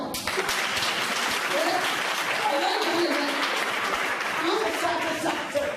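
An audience applauds steadily at a public meeting on community policing in Bouaké, dense continuous clapping with voices mixed in underneath.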